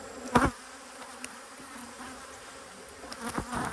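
Honeybees buzzing close by at an apiary, with a couple of louder passes as one flies near, over a faint steady hum.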